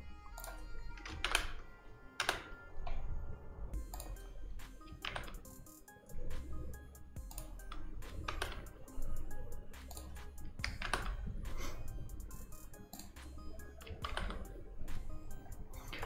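Computer keyboard typing, close and quiet, with scattered sharp key clicks and short flurries of presses, including an Alt+Enter shortcut, spread irregularly over a low background hum.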